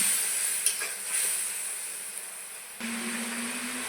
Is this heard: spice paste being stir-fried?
yes